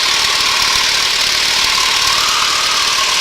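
Texan AT6 (SNJ) aircraft engine at climb power, heard from inside the cockpit as a loud, steady drone with a hissy roar and no break or change across the few seconds.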